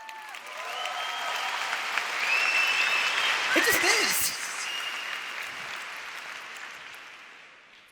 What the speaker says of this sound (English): Let's clap that shit up because it's true.